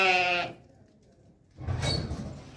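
A tall, healthy sheep bleats once, short and close, followed by a rustling shuffle of hooves and movement nearby.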